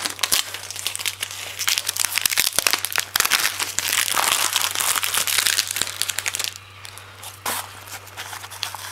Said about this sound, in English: We're going to take all this tape off. Just peel this all off the table here